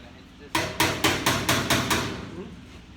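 A hammer striking metal during work on a 1964 Ford Fairlane build, seven sharp ringing blows in an even quick rhythm, close and loud, each decaying briefly before the next.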